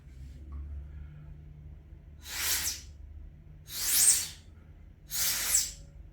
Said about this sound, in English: You see the spray of water coming out?